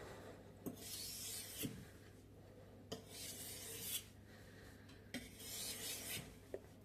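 A knife blade is drawn over a wet whetstone in repeated slow scraping strokes, each a soft rasping pass ending in a light click, quiet and close with no talk.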